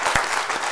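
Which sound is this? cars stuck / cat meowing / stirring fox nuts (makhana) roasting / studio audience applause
studio audience applause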